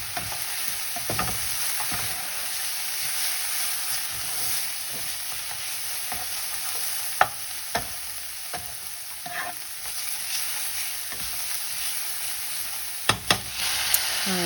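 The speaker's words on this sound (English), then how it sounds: "I do a lot of stirring with this recipe. At this particular point, it's because I don't want the garlic to burn." Garlic frying in a pan for a beef and potato samosa filling, a steady close sizzle throughout with occasional sharp scrapes and clicks from a utensil stirring it, no voices.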